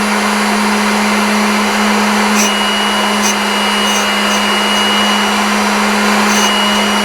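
A bench grinder with its abrasive wheel being dressed by a hand-held dresser pressed against it, giving a steady, loud, continuous whirring hum with a sustained scraping hiss and no voices.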